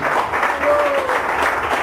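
A church congregation claps together in praise during a worship service, a brief wash of applause with voices and cheering mixed in over it.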